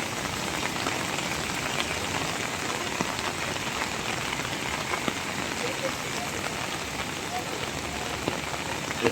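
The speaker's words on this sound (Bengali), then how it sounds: "বৃষ্টির দিনে বের হয়েছি," Heavy rain pours steadily in Hemayetpur, Bangladesh, a dense continuous hiss of drops on surfaces that stays loud and even throughout, with no pauses.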